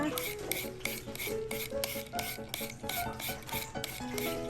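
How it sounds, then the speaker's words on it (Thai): Green papaya shredded into strands for Thai papaya salad, a rapid rhythmic rasping scrape repeated steadily, close and clear, with no talking. "หั่นเส้นนะคะเตรียมตำนะคะ"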